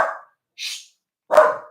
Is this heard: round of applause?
no